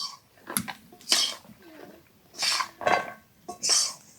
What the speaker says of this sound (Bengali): এবার এগুলোকে এপিট ওপিট করে নাড়িয়ে রাখতে হবে